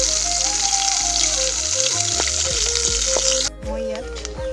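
Namsing, a fermented fish, frying in hot oil: a loud, steady sizzle with crackles and a few stirring knocks, dropping in intensity near the end.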